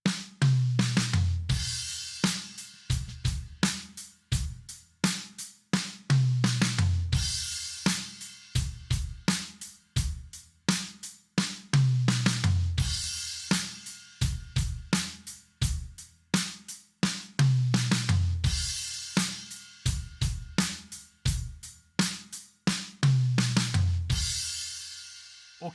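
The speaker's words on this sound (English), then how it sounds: "It's a really reliable, versatile, go-to stock drum fill that comes in handy in all kinds of situations." A drum kit repeats a basic paradiddle fill over and over, with quick alternating snare and tom strokes landing on regular cymbal and kick accents. It is close and loud and plays alone.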